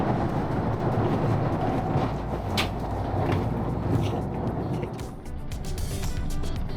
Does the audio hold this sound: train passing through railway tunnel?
yes